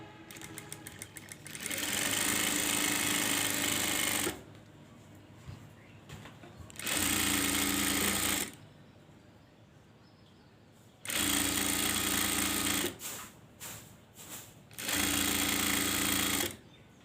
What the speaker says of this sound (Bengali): এরকমভাবে 2টা ভাঁজ দিয়ে, এই যে এরকমভাবে 2টা ভাঁজ দিয়ে সোজা একটা সেলাই দিয়ে নেব।